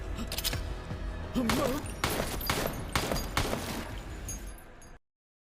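Rapid bursts of gunfire from an anime fight, loud sharp volleys repeating over about five seconds with a voice briefly mixed in, then cutting to silence.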